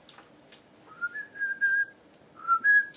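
A person whistles a few short, wavering notes in two brief phrases, close and fairly faint, with soft breathy sounds around them.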